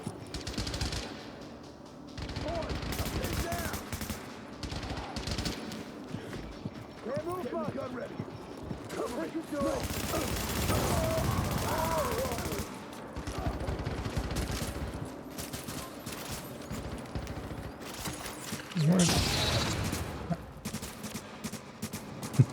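Rapid bursts of gunfire in a video game, loud and intermittent, with hoofbeat-like clatter and someone talking over much of it.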